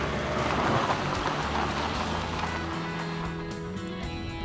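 A car drives along the road, its engine and tyre noise a steady, moderately loud drone that continues unbroken with no talk over it.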